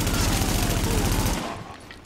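Rapid bursts of gunfire ring out in The Division, a dense, loud volley of shots that rattles continuously before abruptly cutting off and fading into quieter ambience.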